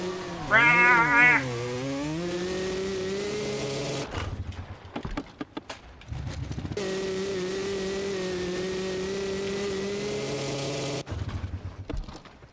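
A high, buzzy engine in MX vs. ATV Legends, much like a nitro RC car, revs and whines with rising and falling pitch, cutting out and returning in loud stretches.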